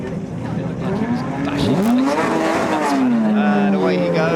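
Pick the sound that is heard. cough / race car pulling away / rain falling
race car pulling away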